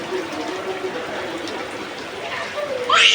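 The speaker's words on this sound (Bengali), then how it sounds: "আরো জোরে আসছে বৃষ্টি" Steady rain pours down on a young child bathing outdoors in the first rain of their life, a dense hiss of falling water that swells louder near the end while adults talk over it.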